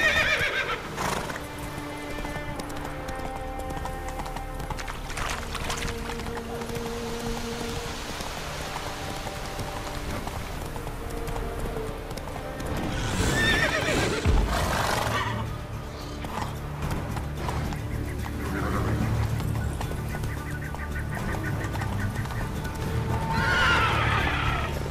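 Roach the horse from The Witcher 3 whinnies loudly and clip-clops along, hooves thudding in rhythm beneath an ambient music bed, with a louder neigh bursting out midway and another near the end.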